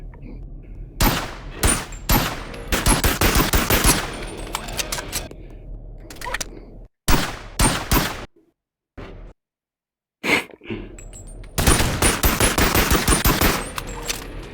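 Rapid bursts of gunfire from the VR game Bonelab, loud and close, firing in several clusters separated by short silences, with a dense volley toward the end.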